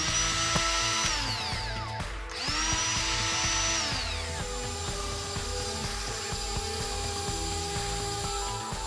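A RYOBI speed saw, a RotoZip-style spiral cutting tool, whines at high speed while cutting through damaged half-inch ceiling drywall, its pitch sliding as it spins up and bogs in the cut, loud and close with no talk.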